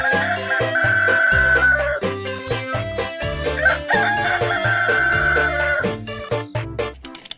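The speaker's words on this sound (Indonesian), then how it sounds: "ini ada ayam jago." Electronic rooster crow from a toy animal, a loud synthesized cock-a-doodle-doo repeated twice over a bouncy tune, close and clear with no talking.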